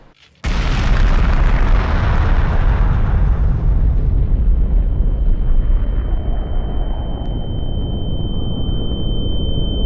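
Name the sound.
two giant energy balls colliding in an animated explosion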